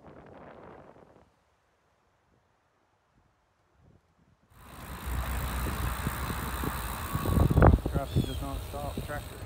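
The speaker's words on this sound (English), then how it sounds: "Traffic does not stop. Tractor." A tractor passes on a road with steady traffic. After a quiet, wind-buffeted lull, a rumbling vehicle noise builds and peaks near the end, mixed with wind noise.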